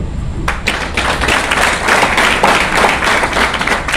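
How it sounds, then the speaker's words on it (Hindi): A training-session audience in a hall claps together at close range, a loud, dense spell of hand claps lasting about four seconds with no talking over it. "अभी इसके लिए ताली बजाओ"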